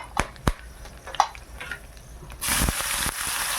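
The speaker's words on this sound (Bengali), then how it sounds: "ফুটে গেছে, লবঙ্গ দারুচিনি দিয়ে দিলাম, আর শুকনো লঙ্কা দুটো" Whole cloves, cinnamon stick and two dried red chillies dropping into hot oil in a home kitchen, with a few sharp crackles and taps, then a steady loud sizzle swelling up and holding near the end.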